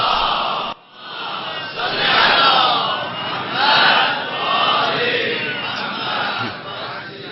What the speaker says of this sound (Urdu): ابھی ذرا بلند تر پڑھ دیجئے تاکہ میں پڑھ سکوں۔